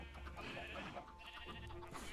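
Sheep bleating in a video game sheep pen, a few overlapping wavering bleats close by, steady and fairly loud over a low farm ambience.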